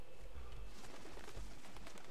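In the video game XIII, at a base in the Appalachians, a bird gives low cooing calls in a short burst, close, over a continuous ambient game background.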